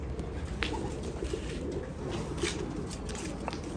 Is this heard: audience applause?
no